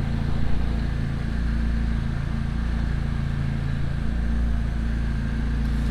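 A 2017 McLaren 570S MSO fitted with race catalytic converters idles just after start-up, a loud, steady, deep engine drone with constant low rumble and no revving.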